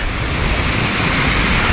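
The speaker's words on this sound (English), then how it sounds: "Wow, it's a nice little creek." A small creek flows along a hiking trail near a campground at Crater Lake National Park, giving a steady, close, full rush of water that stays even throughout with no voices.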